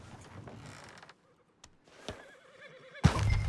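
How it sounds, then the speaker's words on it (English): Horse whinnies and creaking wood in the Red Dead Redemption 2 video game, a faint, sparse scene with a drawn-out neigh in the middle and a louder burst of clatter near the end. "Horses!"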